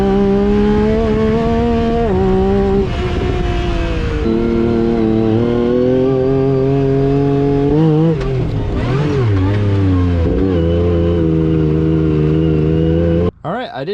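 A side-by-side off-road vehicle engine revs and drops through shifting pitches as it drives close by, loud and steady for most of the run before cutting off near the end; some voice-like sound mixes in.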